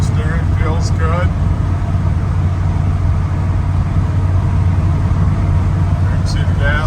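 A 1971 Chevrolet K10 truck cruises down the road at around 60, its steady engine drone and road rumble continuous and loud from inside the cab, with someone talking over it.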